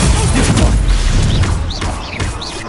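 An Expelliarmus spell cast during a duel in Hogwarts Legacy, heard as loud, dense magical whooshes and thumping impacts with rising swish sounds. Faint voices sit underneath.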